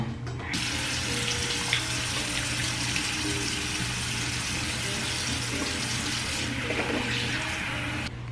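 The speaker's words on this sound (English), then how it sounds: "So I'm gonna go ahead and wash my face." Steady tap water runs into a bathroom sink for face washing, a constant close rushing splash with small shifts as hands move through the stream, and no talking.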